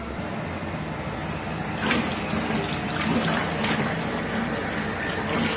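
Tap water runs while things are rinsed under it, a steady hiss that grows louder with bursts of splashing partway through.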